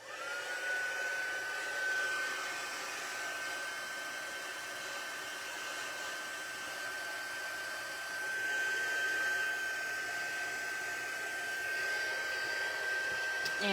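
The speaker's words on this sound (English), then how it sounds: "you will need your heat tool, and we're going to heat set it." A handheld craft heat tool blows steadily on stamped ink to heat-set it, a continuous close airy whoosh with a faint high whine that holds level, swelling slightly near the end.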